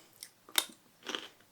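Someone chews a freshly picked, washed garden carrot: two or three crisp, close crunches in a short quiet moment, with no talking.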